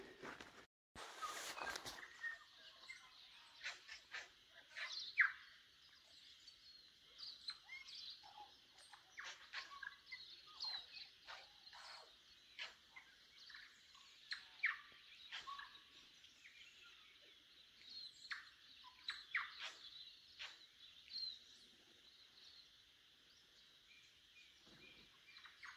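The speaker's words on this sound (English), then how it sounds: "The apple tree, little birds eating them apples." Small birds feed in an apple tree along the Te Araroa Trail, sending out faint, scattered chirps and calls with short bursts across a quiet background.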